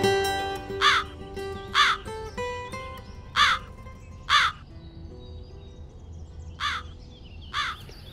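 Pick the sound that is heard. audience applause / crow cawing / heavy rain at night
crow cawing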